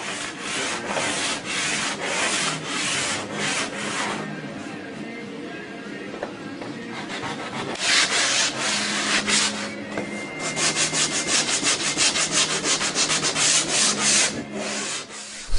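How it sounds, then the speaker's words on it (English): Steady back-and-forth rasping of sandpaper on hardened body filler on a BMW body kit, rhythmic strokes that speed up into quick, short scrubs toward the end. "there is a lot of sanding involved in doing custom stuff in bodywork"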